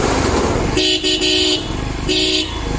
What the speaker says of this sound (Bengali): এখন হর্ন দাও